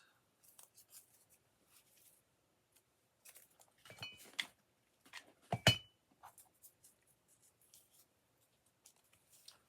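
Scissors snip slices off a small log-shaped craft piece while making an Easter rabbit decoration, a scattered series of quiet cuts and clicks with two louder snips near the middle, no talking.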